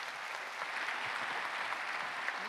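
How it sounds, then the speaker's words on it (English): An audience at a blockchain conference in Paris applauds steadily, a dense wash of clapping that is fairly faint and distant, holding evenly throughout without talk. "Let's give them a huge round of applause."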